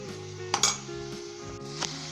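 Chicken and vegetables for a spicy macaroni dish frying in a pan, a soft sizzle under a sustained musical tone, with a couple of sharp metallic clinks of a utensil against the pan.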